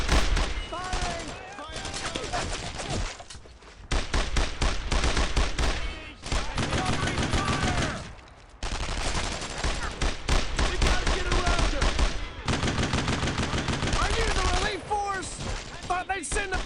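Gunfire in the WWII shooter Brothers In Arms Road To Hill 30, dense bursts of rifle and machine-gun fire in rapid volleys with brief lulls, shouted voices over the battle.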